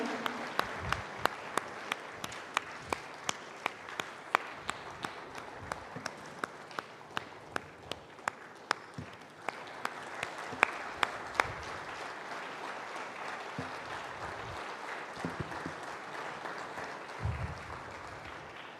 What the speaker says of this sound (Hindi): तालियों की गड़गड़ाहट में कमी नहीं होनी चाहिए